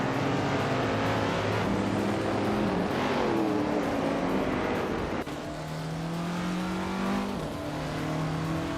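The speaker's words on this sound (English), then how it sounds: "Naibe is leading in a vintage street car, a 1973 Lancia Stratos, which is known for its agility and sharp handling." A 1973 Lancia Stratos vintage street car racing in a video game, engine droning and shifting pitch as it accelerates through gears, steady and fairly close, with other cars' engines mixed in.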